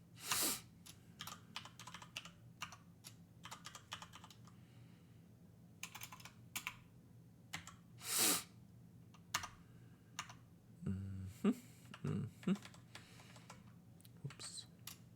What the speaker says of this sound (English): You can't listen to my keyboard much longer.